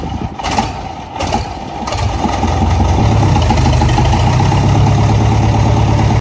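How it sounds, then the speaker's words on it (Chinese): A Caterpillar 215 excavator, abandoned for 25 years and fitted with a new hydraulic hose, is restarted. A few clanks come first, then the diesel engine swells into a loud, steady, rumbling idle that runs until an abrupt cutoff. "接下来他要重新启动挖掘机，准备再次进行尝试各个功能"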